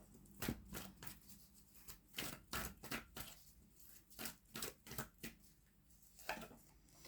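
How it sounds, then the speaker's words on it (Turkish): Tarot cards being drawn and handled from a deck, a run of soft, crisp shuffling and sliding card sounds in quick irregular bursts, fairly quiet and close, with no talking. "Şuraya bir kart daha çekmek istiyorum."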